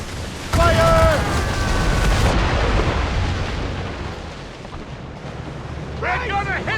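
Ship cannons firing a broadside in the video game Assassin's Creed Rogue, a loud rolling boom that rumbles and fades over several seconds, with shouting voices at the start and end.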